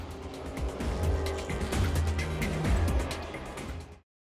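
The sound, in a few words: late model race cars at CNB Bank Raceway Park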